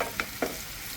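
Onions and ginger for lechon pork sisig stir-fry in a hot pan, a steady sizzle broken by two quick scraping stirs within a second.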